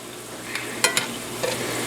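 Parched corn fries in a pan with a steady, hissing sizzle, joined by a few sharp clicks and scrapes of stirring, close and moderately loud.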